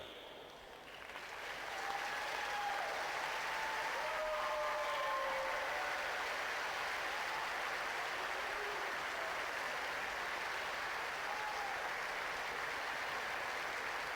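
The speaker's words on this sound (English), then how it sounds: "Receiving a good round of applause." A tennis crowd on centre court applauds the Korean Davis Cup team, steady broad applause swelling after the first two seconds and holding evenly, fairly distant and soft.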